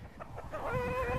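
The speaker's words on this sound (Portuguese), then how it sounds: "Olha as galinhas voando." Chickens in an outdoor run cluck and squawk in a close, busy flurry, with a rising burst of excited calling as birds take off and flap, the sound thickening toward the end.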